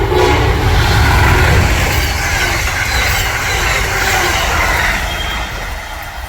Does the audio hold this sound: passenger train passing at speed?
yes